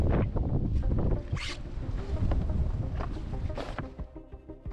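Strong Patagonian wind buffets and roars across the microphone in heavy gusts, with rattling and creaking from a sailboat underneath.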